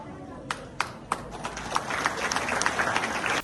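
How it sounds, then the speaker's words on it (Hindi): A gathering applauds a woman being introduced, with a few isolated claps at first building into busier, uneven clapping from a modest crowd over a dull background. "जोरदार तालियों से रचना भाभी का"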